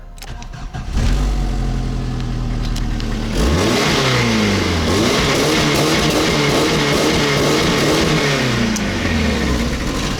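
A car engine cranks and starts, then revs repeatedly, pitch rising and falling in waves, loud and close with no talking.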